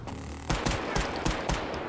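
Rapid gunfire in the video game CrossFireX, a run of sharp, close shots roughly every quarter second over a steady background rumble.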